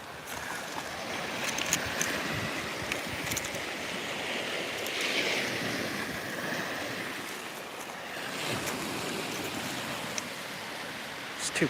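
Ocean waves wash continuously onto a rocky shore where stone is being gathered, a steady broadband roar with gentle surges, close and fairly loud throughout with no clear voice.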